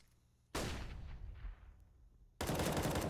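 Rifle fire in a Counter-Strike match on the Mirage map, with two sudden loud bursts of rapid gunshots, the first fading out and separated by a short near-silent gap.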